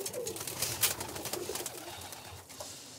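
Birmingham Roller pigeons coo softly and repeatedly at close range, a low murmuring call over faint background noise with no talking.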